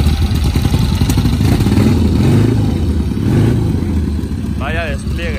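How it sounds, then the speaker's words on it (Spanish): A vintage Norton motorcycle engine with a slightly low idle, running with a loud, steady throb and brief revs, heard up close over continuous talk at an outdoor motorcycle event. "Y la Norton también a punto de despegar. Que no se le cale, que tiene el ralentí un poquito bajo."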